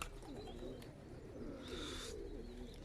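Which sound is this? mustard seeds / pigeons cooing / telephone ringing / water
pigeons cooing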